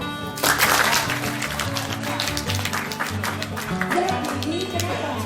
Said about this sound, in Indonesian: Tolong tepuk tangan yang keras sekali.